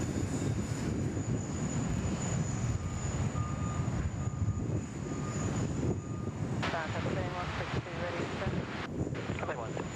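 A Qantas jet rolls and climbs away on takeoff for Hong Kong from Sydney Airport, a loud, steady roar of jet engines with wind buffeting the microphone throughout.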